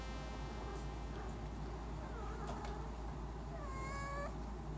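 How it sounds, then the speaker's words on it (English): A cat meows a few times, faint and rising, over a steady electronic hum. "Oh, here comes the cat."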